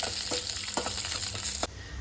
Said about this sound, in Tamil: தண்ணி நல்லா கொதிக்குது பாருங்கள்.